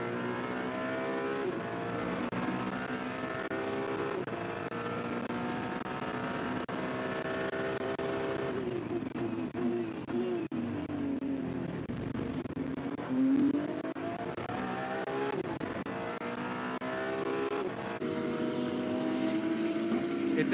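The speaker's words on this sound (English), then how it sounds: "That is a glorious engine on that 296." Onboard engine of a Ferrari 296 race car during the Shanghai 8 Hours endurance race, a steady loud engine drone with shifting pitch throughout, gear changes and a brief thump, with commentary voices faintly under it.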